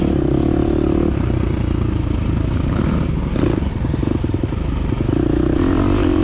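A 2023 KTM 350 XC-F four-stroke dirt bike labors up a dry, sandy, silty hill in a scramble race, its engine droning loud and close throughout with rattling clatter and small throttle surges.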